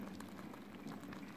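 Food boils in a pot on a wood-burning stove, a faint, steady bubbling and soft popping simmer heard close and alone.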